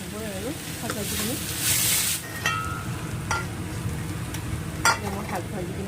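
Leafy greens fry in a pan with a steady sizzle, broken by stirring scrapes and a sharp burst of hiss, heard up close with brief bits of speech.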